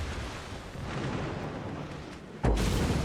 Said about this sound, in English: I'm gonna hit him with that one torpedo.